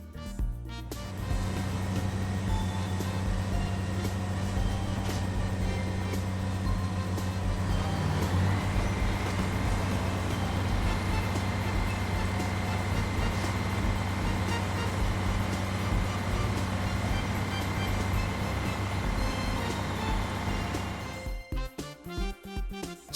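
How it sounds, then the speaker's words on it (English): A cement mixer truck idles loudly with a steady low engine rumble and broad mechanical noise, holding constant for about twenty seconds before cutting off near the end. "Cement mixer."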